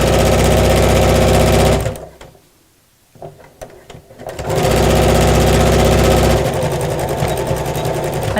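A sewing machine stitches elastic into a craft bag, a loud steady mechanical whir that stops briefly for a couple of seconds with light handling clicks, then resumes running continuously.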